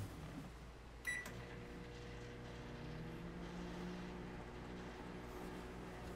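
Microwave oven running with a low steady hum and drone, quiet and continuous, with a short sharp click or beep near the start.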